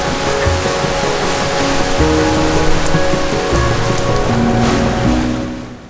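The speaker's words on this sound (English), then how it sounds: "right on cue, it started to pour" Heavy rain pours down steadily onto an Outremer 52 sailing catamaran, a dense hiss of drops drumming on a hard surface close by, loud and continuous throughout.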